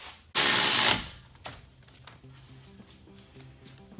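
A tool tightens 21mm ball joint bolts on a 2016 Dodge Journey R/T in one loud, close burst under a second long, followed by quieter scattered clicks and faint shop hum.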